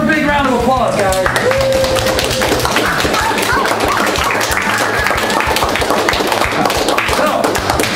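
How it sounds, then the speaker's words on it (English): A crowd at a 2015 Call of Duty Advanced Warfare gaming tournament applauds the champions with dense, continuous clapping, while voices are heard near the start. "Give her a big round of applause, guys."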